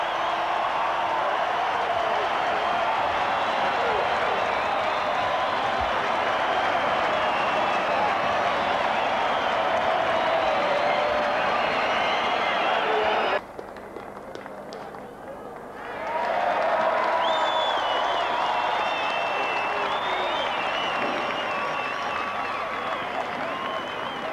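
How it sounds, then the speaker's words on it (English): Large rugby league crowd at Lang Park, Brisbane, in the closing seconds of the 1991 Australia v New Zealand third test: a steady, loud roar and cheering that dips briefly for a couple of seconds before surging again. "The crowd will count them down on the Subaru scoreboard"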